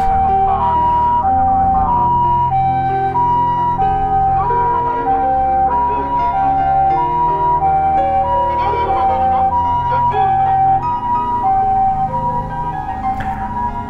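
An ambulance siren wails steadily at a stopped accident scene in Nagoya where a bicycle was hit, its repeating two-tone pitch loud and continuous for the whole stretch over street noise.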